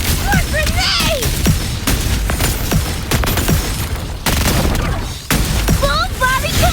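Grenade explosions in the video game Wuthering Waves, a loud, dense barrage of booming blasts and pops with rapid bursts overlapping, mixed with chirping effects and voices.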